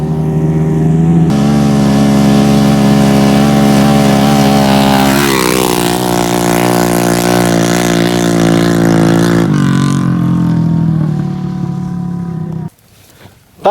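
Several 125 cc motorcycles rev hard together before a speed test, a loud, close, sustained engine roar with rising pitch mid-way, then dropping off abruptly near the end.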